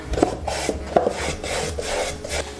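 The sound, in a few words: applying finish by hand along the wood grain of crates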